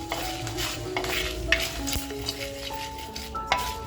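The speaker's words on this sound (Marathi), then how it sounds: "तुम्हाला आवाज येतच असेल चटचटण्याचा." Spices fry lightly in a clay pot for a Malvani-style surmai fish masala, crackling and sizzling steadily while a utensil scrapes and clinks against the pot up close, with no talk.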